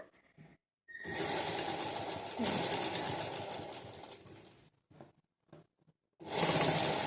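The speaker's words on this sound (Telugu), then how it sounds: "కార్నర్కి ఒక కుట్టు పెట్టుకుంటున్నాను అనమాట" A sewing machine stitches blouse lining at a corner, running in one long steady whirring burst, then pausing for a few short stop-start bursts before a final run, all close-up.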